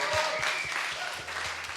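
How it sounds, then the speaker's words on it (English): Studio audience applause during a live entertainment show, steady clapping sustained throughout with faint voices and some low rhythmic sound mixed underneath. "we need to give it extra applause"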